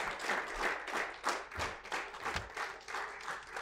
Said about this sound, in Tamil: ஒரு பெரிய கைத்தட்டலோடு